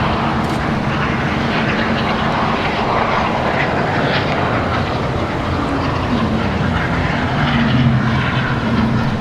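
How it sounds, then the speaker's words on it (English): A low, steady rumble of aircraft engines overhead near Washington Dulles, loud and continuous, the pitch gently shifting as the plane cuts power on approach to DCA. "That's them up there cutting power to come in to DCA."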